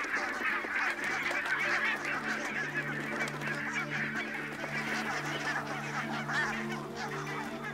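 A large flock of barnacle geese takes off for Arctic breeding grounds, a dense, continuous chorus of overlapping honks, loud and close, with no voices.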